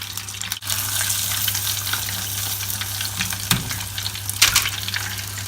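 Batter frying in a pan on a home cooking show, giving a loud, steady close sizzle throughout, with a couple of brief stirring or scraping bursts, no talking.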